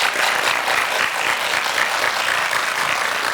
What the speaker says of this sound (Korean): 목표하신 거 모두 다 힘차게 이루시라고 우리 큰 박수 보내드릴까요?